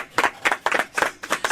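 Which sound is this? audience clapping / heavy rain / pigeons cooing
audience clapping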